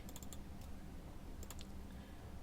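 Fingers type on a computer keyboard at a clinic front desk. Quick clusters of crisp keystrokes sound close by over a steady low hum, with no talking.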